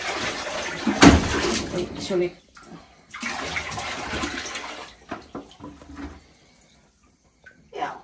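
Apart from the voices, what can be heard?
water running for a shower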